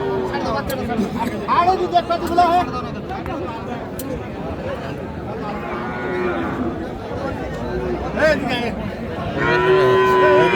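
A Friesian heifer calf, recently separated from its mother, bawls repeatedly with drawn-out moos, close by, over steady background chatter and crowd noise at Aftabganj cattle market in Dinajpur.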